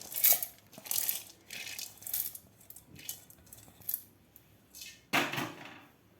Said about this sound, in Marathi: त्यामध्ये आपल्याला हे गहू भिजवून घेतलेले यामध्ये घालून घ्यायचे आहेत